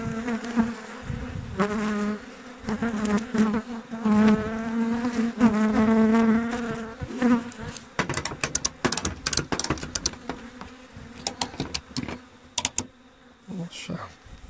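Honeybees buzz loudly from an opened hive during a winter inspection at the overwintering site, a dense droning hum with rising and falling pitch, broken later by sharp clicks and knocks from handling.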